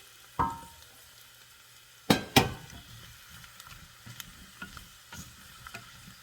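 About two pounds of potatoes drop into a pot with a few sharp clunks and knocks, then quieter scattered taps and a faint sizzle.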